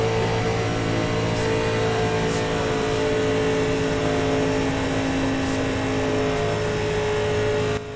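Sim racing video game car engine holding a steady, loud drone with sustained harmonic tones throughout, close and continuous with no voice over it.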